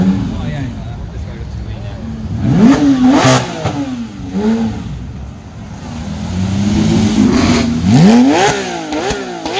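A Porsche GT3 RS engine revs loudly several times up close at a car meet, pitch climbing and falling in repeated bursts, with people talking in the background.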